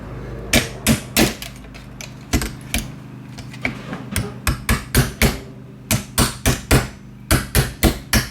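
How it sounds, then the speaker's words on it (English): Sharp metallic strikes of a 3-pound hammer shaping a spoon ring on a mandrel, close and loud, coming in quick irregular bursts of two to four blows with short pauses between. "here we're using the 3-pound hammer because we don't really care what it looks like"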